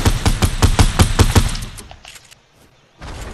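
Gunshots in Fortnite, a quick burst of about eight loud, evenly spaced shots over a second and a half, fading to near silence before a faint sound returns.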